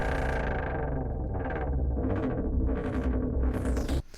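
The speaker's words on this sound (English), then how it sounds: "Some really cool, like, kind of Transformers type effects." Heavily processed guitar with warping, sweeping Transformers-style robotic effects, rising in pitch in repeated swells before cutting off abruptly.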